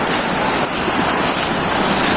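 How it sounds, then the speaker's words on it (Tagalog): A swollen, flooding river in Angat, Bulacan rushes past in steady, loud turbulent roar and wash, continuous with no voices. "Yung ilog malaki na yung alon niya."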